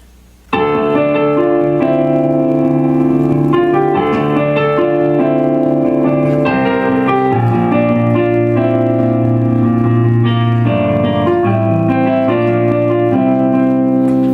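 Solo piano plays part 5 of a song, steady sustained chords and melody notes ringing continuously from a soft start, close and fairly loud with no talking.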